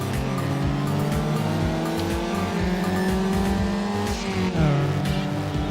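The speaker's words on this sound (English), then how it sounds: "Perfect shift and then over rev." A race car in Need For Speed Underground screams at high revs, shifts gear, then over-revs, its engine note rising and dropping in stepped sweeps over a constant loud roar, with a brief tire squeal.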